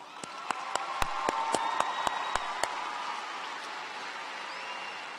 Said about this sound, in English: Let's give our students one more big round of applause